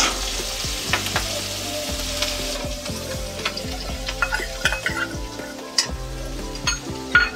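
Green chillies sizzle in hot oil for aloo paratha filling, a steady close frying hiss with scattered stirring clicks and soft clanks, no voices.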